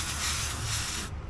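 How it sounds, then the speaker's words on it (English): Aerosol spray hissing onto the starter of a 1969 Corvette Stingray during a rebuild, one steady close hiss lasting about a second before cutting off. "so I'm gonna go ahead and spray that on there."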